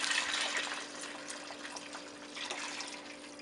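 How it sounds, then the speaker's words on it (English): Water pours steadily into a pot of overnight-soaked dry red beans for New Orleans red beans and rice, making a continuous splashing, gurgling fill that swells and eases slightly. "Alright, so now I'm going to add my water."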